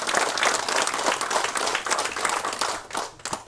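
Lawmakers at a party caucus meeting applaud together in a dense burst of clapping from many hands that holds steady for a few seconds before thinning out.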